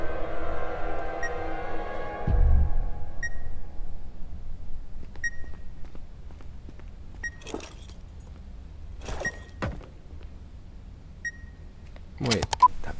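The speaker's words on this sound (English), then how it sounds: "Wait, that beeping. It's as if it's coming from the inside." Electronic beeping inside The Beast Inside video game repeats at a steady pace about every two seconds, faint and thin, over quiet rustling, knocks and shuffling movement.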